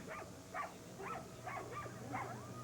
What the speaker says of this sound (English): He's driving 14 dogs